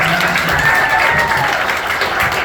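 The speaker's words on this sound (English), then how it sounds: "Give her a round of applause." A comedy club crowd bursting into applause and light cheering, dense clapping holding steady throughout at close range.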